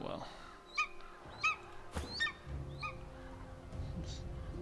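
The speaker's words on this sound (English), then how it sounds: "Certainly sounds like a crow." Hoarse, honking bird calls from Divinity Original Sin 2 cry out four or five times in quick succession, moderately close, over a quiet game ambience with a sharp thud among them.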